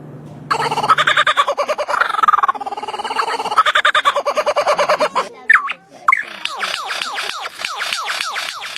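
A lyrebird mimics chicken sounds, giving loud, close, repeated clucking and cackling calls in rapid bursts, followed by a run of sharp, rhythmic squawks.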